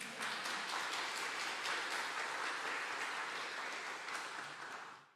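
A church congregation applauds during a Sunday service with a warm, dense burst of many hands clapping at a steady level before it cuts off abruptly.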